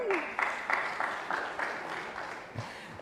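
Graduation audience clapping for the graduates, a sparse, uneven burst of applause with a few distinct louder claps standing out, fading gradually over a few seconds.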